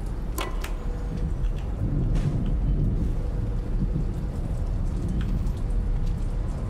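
Steady, heavy rainfall hisses throughout a video game storm, with a low rumbling undertone of distant thunder and a few brief sharp crackles near the start.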